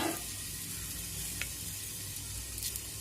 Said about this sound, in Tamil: ஸோ பாருங்கள் கடுகு பொரியுது